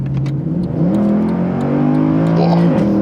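A sports car engine revs hard and climbs in pitch as it accelerates, loud and close, with a brief shift partway through before it pulls again.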